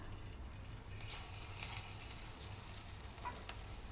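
Banana flower fritters fry in hot oil with a steady, soft hiss and faint crackle throughout, quiet and close with no talking.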